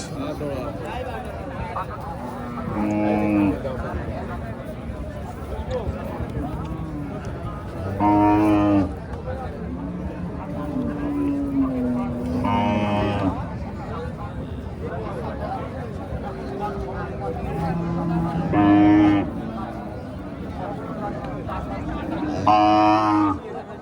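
Friesian cows at a busy cattle market give several loud, drawn-out moos spaced a few seconds apart, rising over a constant hubbub of people talking nearby.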